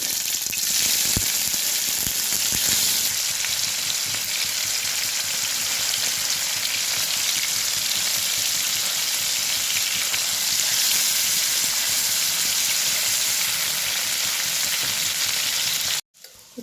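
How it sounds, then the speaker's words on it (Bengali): Paneer cubes fry in hot oil in a wok, giving a steady, dense sizzle and crackle that runs unbroken and fairly loud throughout, with no voices, before it cuts off abruptly near the end. "কড়াইতে তেল দিয়ে দিয়েছি পনিরগুলো ভেজে"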